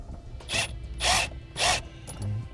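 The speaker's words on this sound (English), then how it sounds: "We use a 5/32 Allen key and a 3/8 socket to hold the nut still." Metal tool clicks and rubs against a nut on a brake pedal clamp, an Allen key and 3/8 socket working it in three distinct bursts, close and fairly quiet.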